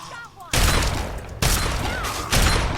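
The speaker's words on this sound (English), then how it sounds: "Let's finish him off with a shotgun" Three heavy shotgun blasts from Fallout 3, loud and close, each booming report spaced about a second apart with a lingering tail.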